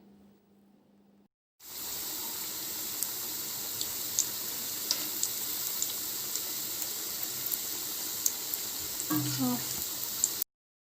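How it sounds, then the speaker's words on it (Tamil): Tapioca cutlets go into hot oil in a kadai after a short quiet start, and a constant loud deep-fry sizzle then runs for several seconds with small pops and a faint clatter near the end before cutting off. "இப்போ அதை போட்டு எல்லாத்தையும் பொரித்து எடுத்துடலாம்"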